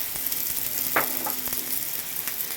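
Pieces of sheep's head frying in oil in a pan, with a steady close sizzle and a few brief clinks or scrapes from turning the meat, and no voices.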